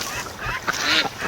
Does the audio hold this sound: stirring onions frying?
no